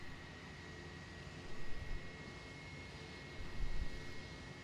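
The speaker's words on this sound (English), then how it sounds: "you can actually see right there the prop starting to move" A propeller aircraft engine in a flight simulator spins up, giving a steady droning hum with a faint whine, swelling twice as the revs briefly rise.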